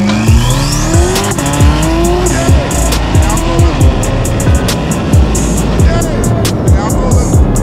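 Twin turbo C8 Corvette with an X-piped exhaust by Extreme Turbo Systems, loud and close, engine revving up and down in repeated sweeping pulls with sharp gear-change drops and crackles, a voice faintly under it.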